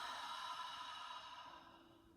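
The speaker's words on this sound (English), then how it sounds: "And then exhale." A soft, audible breath pushed out through the mouth during a gentle yoga breathing exercise, close and quiet, fading gradually as the exhale ends.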